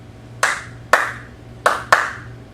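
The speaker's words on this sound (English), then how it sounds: "I'm going to do a little clapping routine." A teacher's clapping routine in a classroom: four sharp hand claps in a rhythmic pattern, two spaced claps then a pause and a quick pair, close and clear with no talking.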